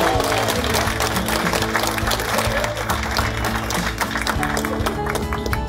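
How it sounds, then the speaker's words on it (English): Wedding guests applaud in a dense, continuous burst of clapping that fills the room, with voices mixed in under it. "Poppy and our handsome page boy Joey, give them a round of applause."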